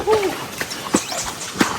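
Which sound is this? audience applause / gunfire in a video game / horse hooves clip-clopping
horse hooves clip-clopping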